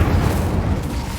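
An Incendio fire spell in Hogwarts Legacy goes off with a deep, rumbling burst, a loud, low roaring whoosh that fills the moment and dies away quickly.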